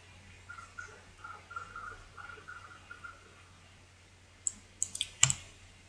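Quiet computer mouse clicks on a Windows PC, a faint cluster of a few sharp, close clicks near the end after soft low background hum.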